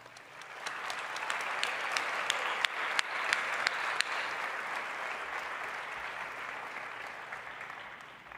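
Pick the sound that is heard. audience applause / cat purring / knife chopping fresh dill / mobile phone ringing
audience applause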